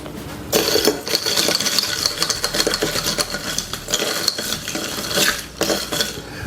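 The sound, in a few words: stirring a cocktail with ice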